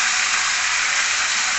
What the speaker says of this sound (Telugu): ఇప్పుడు నీళ్లు పోసుకుందాము